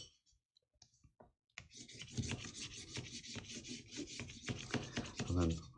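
Paper laid on an inked print block for a Keith Haring print is burnished by hand, making a soft rubbing and scratching sound that starts after a quiet moment and carries on in close, quiet strokes.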